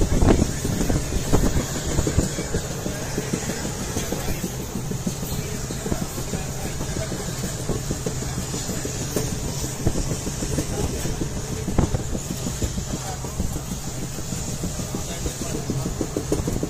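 A continuous loud rumble of a moving train running through forest, with rhythmic rattling and clatter, plus rushing wind noise across the microphone throughout.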